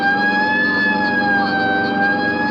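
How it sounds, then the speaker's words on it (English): Police car siren from a radio drama, a steady, loud, continuous wail holding its tone throughout with no talk over it. "Let's roll on it, huh, Ben? Right, I'll hit the siren."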